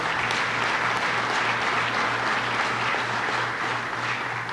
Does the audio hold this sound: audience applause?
yes